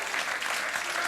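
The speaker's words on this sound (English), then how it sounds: "That's primarily Americans applauding that I'm leaving the country." A late-night talk show studio audience breaks into loud, dense applause, a continuous wash of many hands clapping together.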